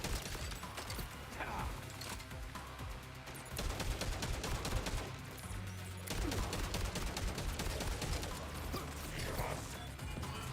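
Gunfire in the Borderlands video game comes as dense, rapid bursts of shots mixed with mechanical clatter and impacts. The firing runs continuously at moderate level with brief lulls.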